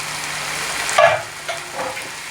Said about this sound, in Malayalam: എല്ലാം കൂടി നന്നായിട്ടൊന്ന് മിക്സ് ചെയ്ത് ഇളക്കി കൊടുക്കാം